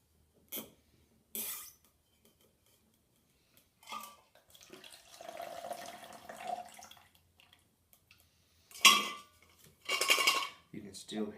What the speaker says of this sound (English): You can still hear ice in there,